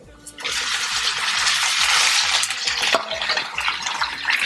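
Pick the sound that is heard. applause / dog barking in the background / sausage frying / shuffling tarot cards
sausage frying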